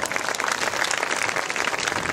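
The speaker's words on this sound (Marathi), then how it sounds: "आपण सगळ्यांसाठी एकदा जोरदार टाळ्या." Audience at the inauguration ceremony of the Dhammadeep Vipassana meditation centre in Chincholi, Akola, breaks into steady, loud applause, a dense wash of clapping sustained for about two seconds with no talk over it.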